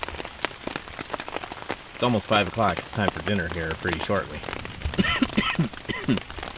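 Rain pattering steadily on a tent during kayak camping after a thunderstorm, a dense patter of drops close by, with someone talking over it.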